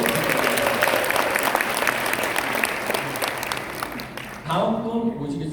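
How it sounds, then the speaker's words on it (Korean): A seminar audience breaks into strong sustained applause, many hands clapping together; near the end the clapping drops away and an amplified voice starts speaking. "다시 한번 큰 박수"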